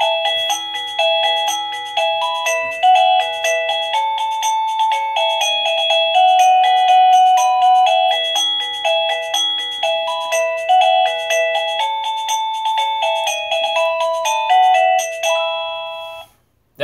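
A Govee waterproof wireless doorbell chime plays a long, loud melodic tune of bright tones in a steady rhythm, close and clear, with no talking.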